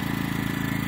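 A Pulsar 2300W/1800W portable generator running in economy mode, a steady low engine hum with a fast even pulsing throb, heard up close for just under a second.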